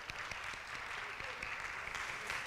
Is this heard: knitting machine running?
no